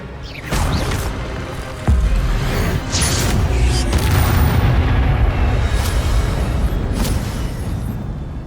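In the Hogwarts Legacy video game, the Expelliarmus spell is cast amid dense combat, with a sudden whoosh, deep booms and crackling impacts layered over continuous loud rumbling.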